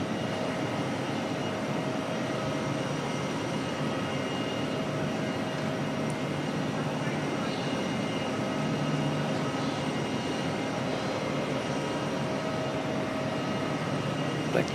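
A Dash 8 turboprop airliner at Auckland Airport produces a steady, unbroken engine drone that holds at an even moderate level throughout, with no voices over it.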